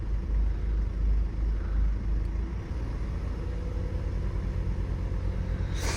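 A Ford Kuga Mk2.5 engine running rough with a possible misfire and excessive vibration, heard from inside as a steady, heavy low rumble that pulses unevenly throughout, with no talking.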